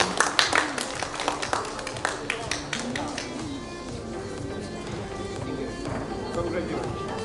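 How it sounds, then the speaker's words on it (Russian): Audience applause honouring beginner winners at a dog grooming awards ceremony, a burst of clapping that fades within a few seconds and gives way to the room's murmur. "Аплодисменты нашим начинающим."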